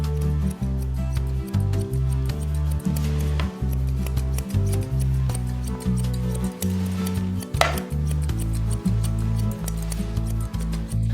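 Scissors snip repeatedly while trimming hair, in a quick, steady rhythm, close and crisp, with metallic clicks over a continuous low hum in the background.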